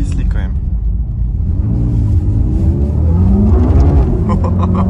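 A Mercedes-AMG GT Black Series on semi-slick tyres spins its wheels on a wet road, the engine rumbling and rising in pitch with a loud, close roar while a voice talks over it.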